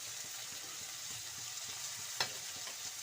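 Coriander, ginger and garlic fry for a lentil curry, a steady soft crackling sizzle with a few light stirring scrapes and one sharper tap near the end, no voices.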